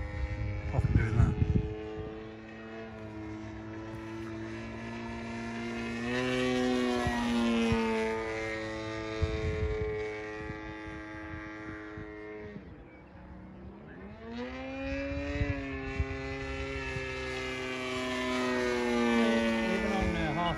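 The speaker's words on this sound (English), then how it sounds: "They're powerful engines, aren't they?" Powerful RC model aircraft engines running at part throttle, a loud buzzing drone that rises and falls in pitch over and over, with people talking over it.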